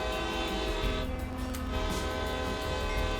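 Freight locomotive horn in a train simulator game, one long sustained blast held steady for the whole stretch, loud and close over a low engine rumble.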